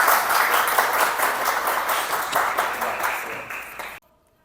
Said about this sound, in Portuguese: Vou pedir uma salva de palmas aí para ela.